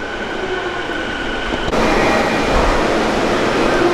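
A Toei Shinjuku Line subway train in Tokyo rumbling through a deep underground tunnel, a steady roar that swells louder halfway through, with faint rail hiss and no voices.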